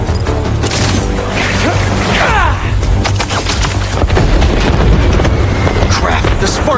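Fireworks burst and crackle amid the chaos of a Marvel's Spider-Man 2 game scene, with sharp bangs, fizzing streaks and whistling sparks over a low rumbling bed, loud and busy throughout.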